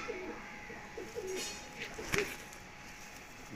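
Soft, low pigeon coos repeat a few times close by, with a faint rustle and a brief sharp tap partway through.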